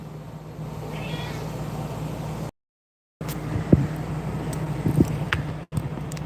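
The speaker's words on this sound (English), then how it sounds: "my cat is down on the floor meowing at me" A house cat meows on the floor, giving several distinct meows at close range over a breezy background hiss, with a short dropout partway through.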